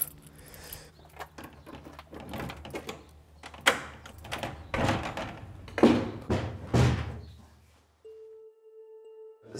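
A key turns in the locked door of the Marpiré cave, followed by clunks and the heavy door being opened. A series of close knocks, rattles and thuds fades to quiet, then a faint steady tone.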